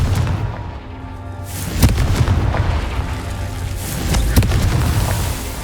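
Confringo spell blasts in the video game Hogwarts Legacy, two booming explosions with rumbling tails over a low game ambience, no talking.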